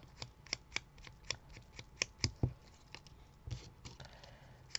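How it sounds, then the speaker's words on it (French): New scissors snipping through paper while making a Christmas card, a rapid run of crisp, close, fairly quiet cuts followed by a few scattered snips and rustles, no talking. "on voit que le ciseau, il est neuf, hein"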